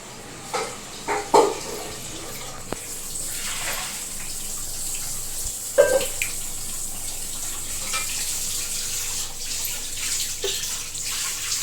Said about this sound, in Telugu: ట్యాప్ బంద్ నీళ్ళు వేస్ట్ అవుతున్నాయి.